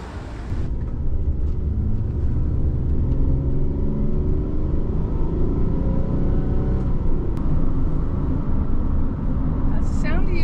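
Continuous low engine rumble and road noise from inside a camper van on a test drive after a repair, heard steadily throughout with wind buffeting, while people talk over it.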